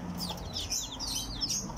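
Chickens clucking close by on a farm, several short overlapping clucks over a quiet background.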